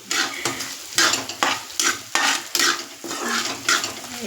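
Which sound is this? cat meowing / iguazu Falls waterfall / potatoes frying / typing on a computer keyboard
potatoes frying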